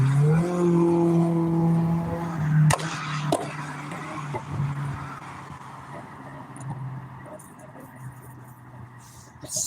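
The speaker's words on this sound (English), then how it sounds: "That car was loud right there." A loud car roars past close by, its engine tone dropping as it goes, then fades into quieter street noise with a few knocks.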